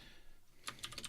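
Typing on a computer keyboard, a quick run of light, close key clicks after a moment of quiet, faint and without talk.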